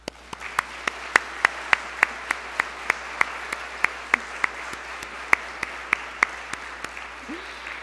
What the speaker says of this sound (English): she deserves a major, major round of applause